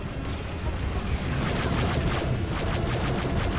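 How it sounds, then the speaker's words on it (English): Relentless missile fire in Star Wars: Battlefront II, a dense, continuous roar of rumbling blasts and crackling launches that stays loud and close throughout, with no letup. "Those missiles are relentless."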